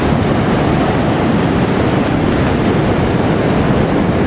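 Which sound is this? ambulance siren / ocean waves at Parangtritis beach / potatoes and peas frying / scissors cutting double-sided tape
ocean waves at Parangtritis beach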